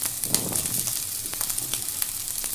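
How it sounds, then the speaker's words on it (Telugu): Gobi fried rice, cauliflower and about two cups of rice, being stirred and frying in a pan, with steady sizzling and soft scraping strokes throughout, close and moderately loud, no voices. "2 కప్స్ రైస్ వేసుకొని కలుపుకోవాలి."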